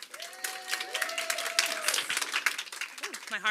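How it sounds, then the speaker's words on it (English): Audience clapping at a Pechakucha Night in Bermuda, a lively patter of hands with people talking and calling out over it, plus a brief whistle-like tone near the start. "Let's get another round of applause."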